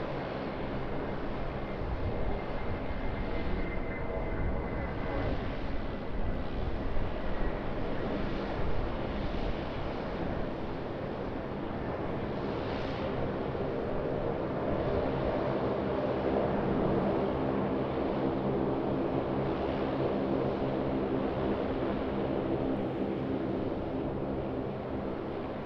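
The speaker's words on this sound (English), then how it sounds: "Jetstar 320 getting airborne off of 34 left." Jetstar Airbus A320 taking off from runway 34 left at Sydney Airport, a steady broadband engine roar with wind buffeting, sustained and fairly loud throughout without voices.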